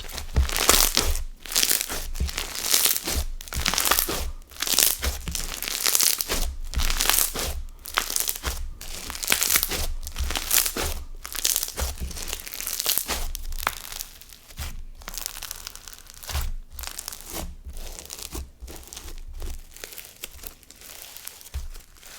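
Crunchy, ultra-packed silica slime is squeezed and pressed by hand, giving dense, crisp crackling and popping in rapid repeated bursts that continue steadily, close and loud, with no talking.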